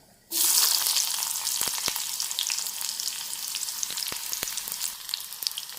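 Green chilies, dried red chilies, curry leaves, onion and mustard seeds hit hot oil for a Kerala milk tapioca dish, bursting into a loud, steady sizzle with scattered sharp pops and occasional stirring clicks throughout.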